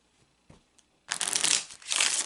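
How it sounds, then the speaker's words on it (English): A deck of Kipper oracle cards being shuffled by hand, two bursts of dense riffling with a short pause between, close and fairly loud after a faint tap or two. "I'm going to take a few moments to shuffle the deck."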